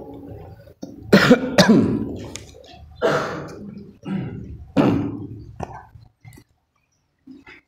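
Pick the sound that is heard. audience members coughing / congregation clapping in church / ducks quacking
audience members coughing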